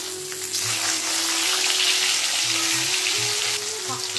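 Snakehead (shol) fish fries in hot oil in a home kitchen, a loud continuous sizzle and crackle holding steady throughout, with a low hum beneath.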